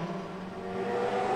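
Race car at Spa-Francorchamps, a single car sounding a sustained engine whine that grows slightly louder over the brief moment as it approaches.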